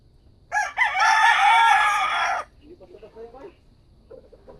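A rooster crows loudly and close by in one long, sustained call, followed by faint scattered clucks and farmyard murmurs.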